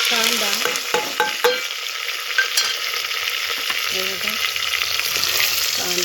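Mustard seeds, cumin, curry leaves and onion sizzle loudly in hot oil, with a steady close hiss broken by a few utensil scrapes and small pops.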